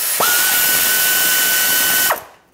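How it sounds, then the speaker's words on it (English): Power tool spinning a 12 mm socket to remove a bolt on a 1995-2004 Toyota Tacoma 2.4L four-cylinder engine, a loud close whine that rises quickly, holds steady for about two seconds, then winds down and stops. "I'm gonna take a 12 millimeter socket and remove this bolt."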